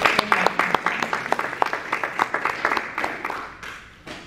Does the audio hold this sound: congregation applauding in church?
yes